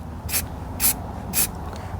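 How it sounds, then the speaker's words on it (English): A spray paint can spraying purple paint in three short, even hissing bursts about half a second apart, close and clear over a low steady background. "Just kind of spraying it down."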